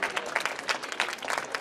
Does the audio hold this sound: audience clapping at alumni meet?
yes